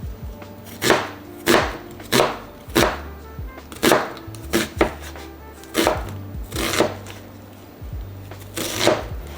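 A knife chops onions on a cutting board for homemade pickles. Loud, close thuds come in quick bursts of several strokes with short pauses between them, and nobody talks.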